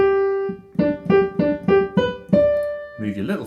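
A piano section from Mozart's Eine Kleine Nachtmusik at beginner level, a held opening note and then a quick run of short repeated notes ending on a sustained tone, close and bright, with a voice starting to speak at the end.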